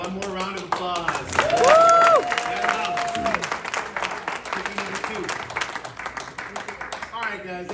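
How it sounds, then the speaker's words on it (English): A round of applause at a birthday roast, clapping from a small crowd mixed with whoops and voices calling out, loudest early and tapering off while people talk. "one more round of applause"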